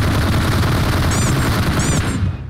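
Video game gunfire rattles in a dense, steady stream of close shots throughout, loud and continuous, with brief high electronic chirps cutting in twice over the clatter.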